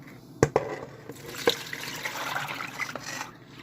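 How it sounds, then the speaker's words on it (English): Milk pours from a pan into an oversized plastic container while homemade Greek yogurt is made, with a few sharp knocks and splashes at the start and then a soft, steady liquid trickle close by. "I'm just going to pour the milk in"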